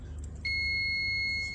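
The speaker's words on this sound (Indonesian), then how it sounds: "Salah satunya pasti ground, pasti bunyi beep atau 0 menunjukkan di avometernya" A steady continuity beep from a multimeter, its probe touching a capacitor leg on a faulty Samsung TV mainboard, sounds alone and sustained for about a second over a low background hum.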